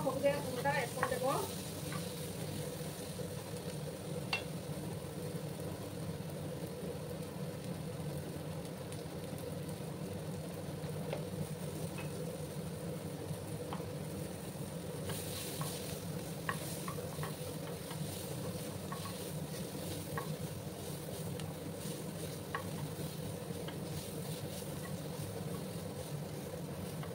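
Tomato and turmeric powder sizzling steadily in a pan, with occasional scrapes and taps of a stirring spoon, close and even throughout a Bengali mustard lentil-fritter curry preparation; no talking.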